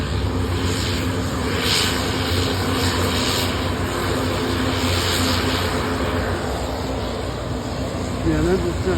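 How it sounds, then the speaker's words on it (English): A Cessna 140 propeller airplane flying near Leesburg airport, its engine drone steady and fairly loud throughout, with people talking over it. "That's a Cessna 140."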